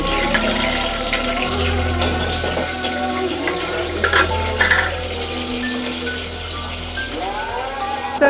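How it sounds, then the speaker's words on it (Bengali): Prawns frying in hot oil in a pan, a steady dense sizzle and crackle running throughout, with a low continuous hum underneath. "ভেজে চিংড়ি মাছটা ভালোভাবে তেলের উপর একটু ভেজে"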